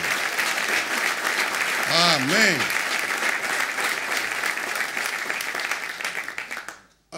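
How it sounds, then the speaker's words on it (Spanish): A church congregation claps steadily in a loud, sustained round of applause, with a voice calling out briefly over it before the clapping fades away at the end. "le damos un aplauso porque Dios le dio una niñita"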